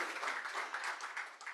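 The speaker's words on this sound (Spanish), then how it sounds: "os pido un aplauso" Brief applause from a conference audience, a soft, fairly distant patter of many hands clapping in a quick burst.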